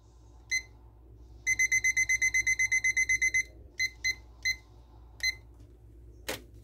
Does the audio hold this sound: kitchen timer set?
yes